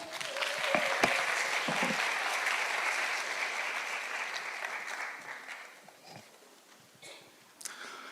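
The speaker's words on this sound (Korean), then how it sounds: "뜨거운 박수로 맞이해 주시기 바랍니다." Lecture audience applauds to welcome a visiting research professor speaking on big data in manufacturing, a dense steady clapping that holds for several seconds, then thins and fades toward the end with a few scattered claps.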